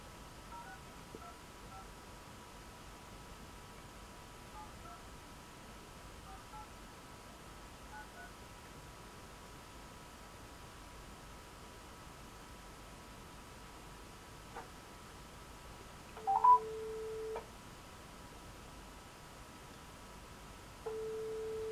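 A telephone dialing out to a participant on a group call: faint dial tones beep at the start over steady line hiss, then a louder sustained tone sounds twice near the end.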